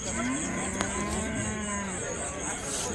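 Cattle lowing at the Melapalayam cattle market, a long, low drawn-out moo carried over a steady din of livestock and murmuring market crowd.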